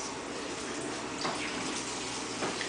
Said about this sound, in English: go pour out the water